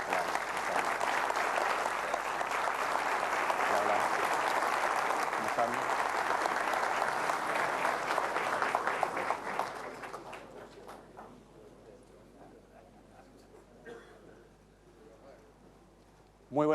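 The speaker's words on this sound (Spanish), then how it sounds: "Recibamos con un fuerte aplauso al ministro de Transporte y Telecomunicaciones, señor Felipe Morandé Lavín" A large audience applauds loudly to welcome the Chilean transport minister at a public ceremony, a dense sustained clatter of clapping that fades out after about ten seconds, leaving a quiet room.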